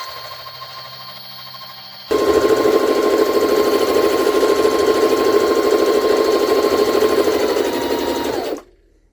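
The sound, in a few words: Jaguar SJ-23 sewing machine stitching organza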